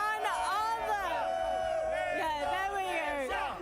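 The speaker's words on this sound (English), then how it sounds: "The cheering speaks for itself." A loud, continuous crowd at a live watch party for an FIFAe World Cup final between Brazil and Indonesia cheers and whoops, with rising and falling shouted voices layered close together throughout.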